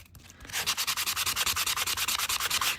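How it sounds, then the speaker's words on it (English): Sanding block rubbed flat across an alcohol ink tag to buff the dried red ink, a steady run of quick, rhythmic scrubbing strokes, close and fairly loud with no voices. "I'm holding my sanding block horizontal to the tag"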